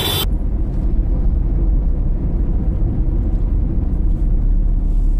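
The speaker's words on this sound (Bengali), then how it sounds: "এত গাড়ির আওয়াজ তোমরা কিছু শুনতে পাচ্ছ কিনা জানি না" Road traffic passing on a busy street, a continuous loud low rumble of engines and tyres that holds steady without a break and has no talk over it.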